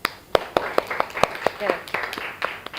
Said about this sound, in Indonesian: Oke, tepuk tangan untuk Eri